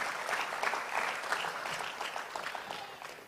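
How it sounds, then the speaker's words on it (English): Applause for the parents at a high school football banquet, a room of hands clapping in a lively, uneven patter that stays fairly steady and softens slightly toward the end. "let's give the parents a round of applause"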